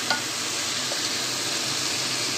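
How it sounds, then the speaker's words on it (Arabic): Tomatoes, onions and greens for Alexandrian-style fava beans cook in a covered pan, giving a steady, even sizzle and hiss close up after a faint clink at the start, with no one speaking. "هنغطي عليها ونسيبها تتسبك الطماطم مع البصل مع الخضره"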